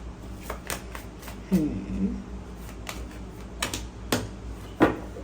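Tarot cards drawn and handled: sparse soft flicks, taps and slides of cards, some sharper snaps, close and fairly quiet over a faint background hum.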